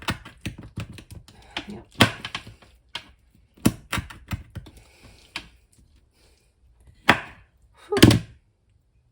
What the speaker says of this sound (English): So now I'll just put my knife right in there and it should cut through.